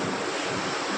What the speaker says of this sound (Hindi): बचाती हुई समंदर की लहरें